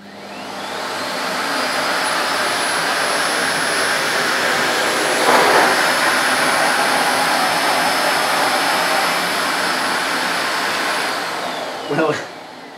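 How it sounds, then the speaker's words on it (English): A Miele Complete C1 Powerline Cat & Dog vacuum cleaner roars steadily at full suction with a high whine on top, running continuously for several seconds before cutting off with a brief clunk near the end. "I'm going to use the vacuum cleaner on its full suction setting"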